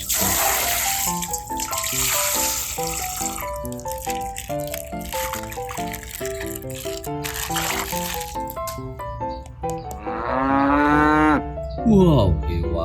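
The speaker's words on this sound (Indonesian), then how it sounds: "Wow, hewan sapi." A cow moos in long, drawn-out calls near the end, following a stretch of bright, tinkling musical tones; the lowing is loud and close.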